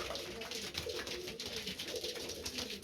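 Pigeons, colourful males kept in a cold winter loft, coo in repeated soft throaty rolls close by, the calls overlapping continuously with no voices.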